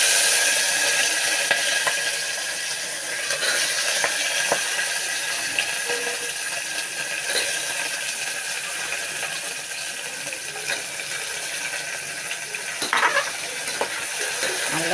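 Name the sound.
sautéing vegetables in ghee for veg biryani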